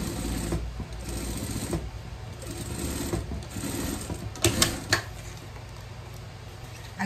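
A sewing machine stitches a vest at a steady, close, moderately quiet hum, with short rattling pauses and a couple of sharper clicks as the fabric is handled.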